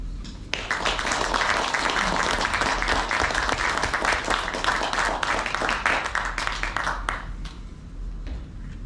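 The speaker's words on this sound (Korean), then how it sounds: "여러분, 따뜻한 박수로 조영종 저자를 무대 위로 모시겠습니다." Warm audience applause at a book concert welcomes the author onto the stage, many hands clapping in a dense burst that swells, holds for several seconds, then tapers into scattered claps.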